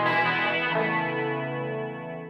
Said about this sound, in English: this splits in stereo, so you can hear